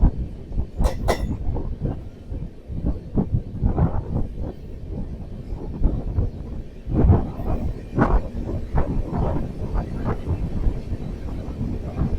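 Passenger train overtaking the Howrah Kalka Netaji Express, heard from on board as continuous rattling rail noise with rhythmic clatters and clanks from the wheels and wagons, fairly close and loud, with no talking.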